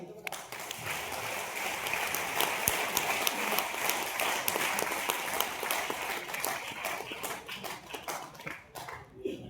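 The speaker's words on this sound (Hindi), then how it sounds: "एक बार ताली बजाइए" An audience claps together at a motivational talk, steady rhythmic applause lasting throughout, fairly close and even in loudness, with a few faint voices mixed in.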